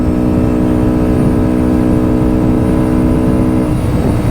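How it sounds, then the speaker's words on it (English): A Benda Chinchilla 350 Neo CVT automatic cruiser motorcycle runs at full throttle, its engine a loud, close, steady drone with a strong hum that shifts slightly toward the end. "So I have full throttle now."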